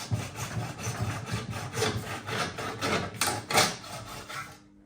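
Tile trim being gently cut by hand inside a window shower niche, a run of rhythmic rasping sawing strokes, close and fairly loud, with no voices and a sudden stop at the end.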